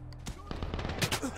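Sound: heavy gunfire from a gun in Medal of Honor 2010 video game

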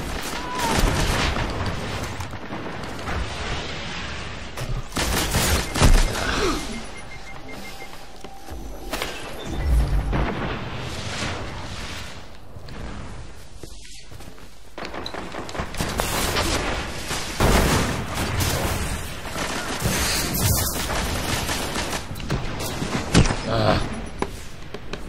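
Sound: machine gun gunfire in the Control video game

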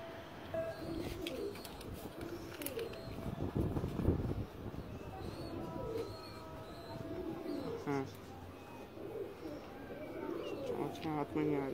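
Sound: pigeon cooing

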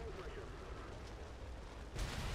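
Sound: explosions in War Thunder video game, P-61 aircraft

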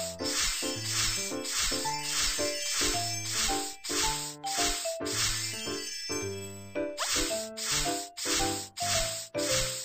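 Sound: spraying detergent on oil-covered penguin, from a video game

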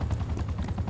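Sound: helicopter in video game Call of Duty: Black Ops Cold War

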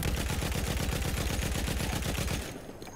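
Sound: gunfire in Battlefield 1 video game

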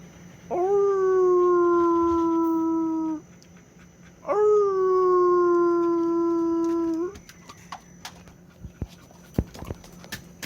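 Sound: person imitating a wolf howl to Jindo dogs

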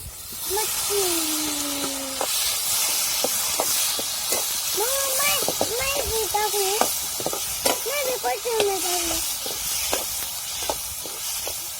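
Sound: moth beans (matki) sizzling as they are sautéed in masala

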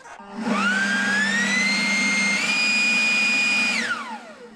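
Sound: battery powered Ryobi leaf blower running

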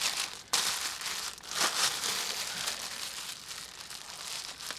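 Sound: plastic bag crinkling as it is wrapped over pipe insulation

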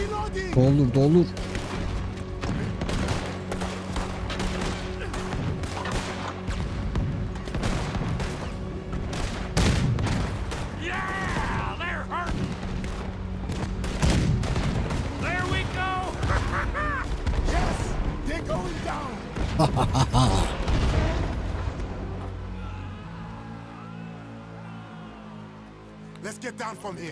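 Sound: cannon fire at a boat in video game Red Dead Redemption 2

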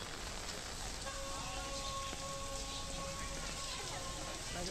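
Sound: heavy rain

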